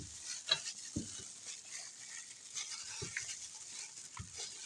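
Chicken is stirred vigorously with a spoonful of sauce and paprika, giving soft, wet mixing and squelching sounds with a few scattered dull knocks against the bowl, quiet and close.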